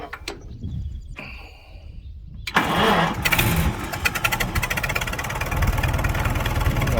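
A 1942 Farmall H tractor with a new ignition system is cranked over in a few short attempts, then catches and settles into a loud, steady, chugging run close by.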